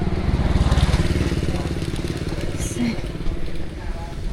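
A motorbike rumbles steadily up close in busy Vietnamese street traffic, its engine thrum loud and continuous, with a person talking over it.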